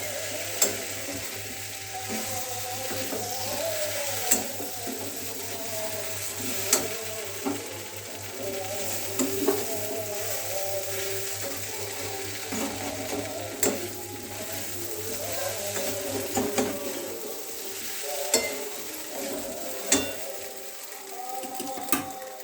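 Fried pointed gourd, soybean chunks and potato being sautéed with spices in a pan, a soft continuous sizzle punctuated by regular sharp scraping clicks of a spoon stirring, close and without talk.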